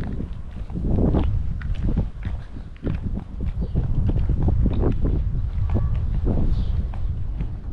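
Strong coastal wind on the Catalan shore near Pals and Tossa de Mar buffets the microphone in loud, uneven gusts, with scattered thumps and rustles throughout.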